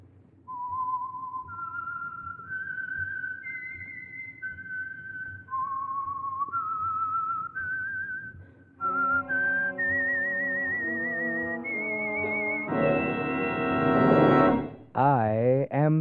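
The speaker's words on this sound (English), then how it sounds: "the signal to listen for is this whistle that identifies the Signal Oil program" A clear melodic whistled signature tune identifying the Signal Oil radio program, a run of sustained rising and falling notes whistled alone, followed by a brief orchestral swell.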